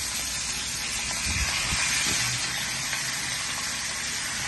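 A steady, loud hiss of sea bream frying in hot oil, with a few soft low clunks in the middle.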